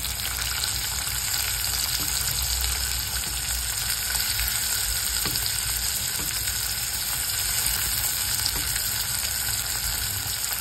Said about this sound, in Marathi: टोमॅटो आपण सगळं 5 ते 6 मिनिटं चांगलं परतवून घेणार.